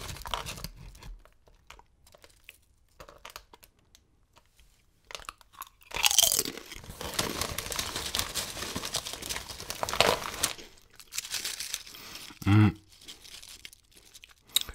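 Lorenz HofChips potato chips being eaten, with rustling of the bag followed by bursts of crunching and chewing close to the microphone, a quiet stretch at the start and no voices.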